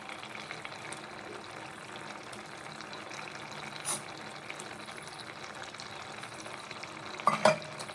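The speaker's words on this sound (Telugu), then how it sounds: "ఇప్పుడైతే మన చేప ముక్కలు అయితే వేసేసుకుందాం" Fish pieces go into a pot of simmering tamarind fish curry. A soft, steady bubbling hiss runs throughout, with a couple of brief louder plops as pieces drop in.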